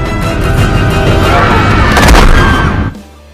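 Dense, loud gunfire from a movie as John practices shooting, a continuous barrage of heavy booming shots that swells near the middle and then stops abruptly, leaving a low quiet rumble.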